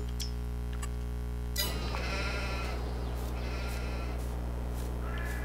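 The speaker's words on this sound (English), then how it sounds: "Put a few sheep in there just like before." Sheep in Farming Simulator 22 bleat several times in a row, a close, clear series of calls over a steady background hum of farm ambience.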